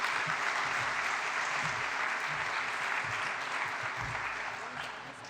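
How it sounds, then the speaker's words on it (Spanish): Audience applause in a campus lecture hall at a talk on artificial intelligence, sustained dense clapping throughout, steady and fairly loud before tapering slightly at the end. "Un aplauso, por favor."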